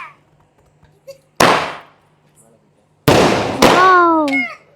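Firecrackers burst sharply outdoors, one loud crack followed later by two more close together, with a whistling squeal trailing the last ones.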